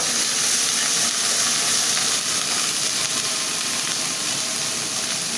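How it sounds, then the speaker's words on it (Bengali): Pieces of papaya go into fried spice paste in hot oil, giving a loud, steady, close sizzle and hiss that runs unbroken from start to finish, with no voices. "এখন আমি পেঁপেটা দিয়ে দিলাম"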